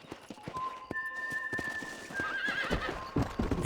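In the video game Red Dead Redemption, a horse gives a wavering whinny over a rhythm of clip-clopping hooves, close and fairly quiet, with faint speech in the background.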